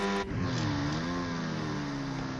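A motorbike engine in a mobile battle-royale shooter drones steadily and close, its pitch rising slightly then holding, with no voices over it.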